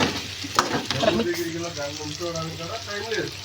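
Chicken frying in a pan, sizzling steadily up close with some stirring, while someone talks over it.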